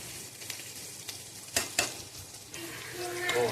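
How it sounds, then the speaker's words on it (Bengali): Chhana and onions frying in a pan and being stirred after salt is added: a steady, moderate sizzle with a few sharp scrapes and clinks of the spoon against the pan, and the frying swells toward the end. "আবার একটু ভালো করে ভাজবো।"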